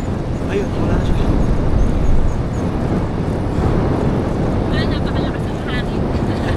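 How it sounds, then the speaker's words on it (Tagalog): Strong wind buffets the microphone in a steady, loud roar during a road cycling climb in Batangas, with bursts of gusting and faint talk underneath throughout. "Napakalakas ang hangin."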